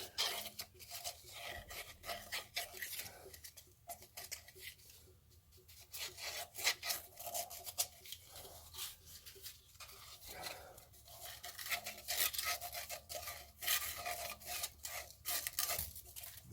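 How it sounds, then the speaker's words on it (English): Sanding burrs off a cut pipe end by hand, a raspy scratching rub in quick irregular strokes, close and fairly quiet, with no talking. "sand this down, get rid of all those burrs, make for a clean piece to attach"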